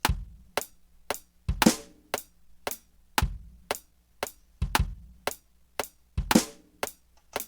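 A looping four-bar drum beat plays with sharp, punchy hits in a steady repeating pattern, heavier kicks falling at regular points in the bar.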